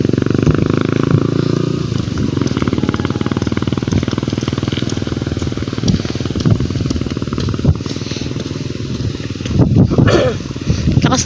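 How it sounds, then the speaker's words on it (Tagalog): A motor engine revving hard while stuck in deep mud during a harvest, a loud, rough, sustained rumble with surging pulses that swell again toward the end. "Lakas ng motor niyan eh."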